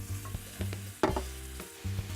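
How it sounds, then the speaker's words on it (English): Onions, peppers and garlic sautéing in olive oil for Moroccan poached eggs, with a close, lively sizzle and repeated scraping stirs of a spoon against the pan. "So we're just gonna start sauteing that in the olive oil."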